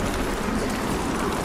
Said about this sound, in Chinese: 刮风下雨的，海面不太平静